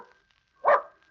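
A single short dog bark, close and moderately loud, comes after a moment of near silence with a faint steady tone underneath.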